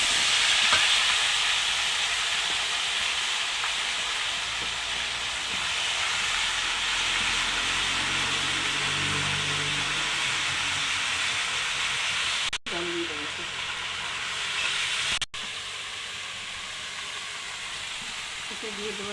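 Bay leaf, ginger, garlic, onion and tomato paste sizzle steadily in a hot pan, a continuous close frying hiss with faint stirring throughout and two brief cuts near the end.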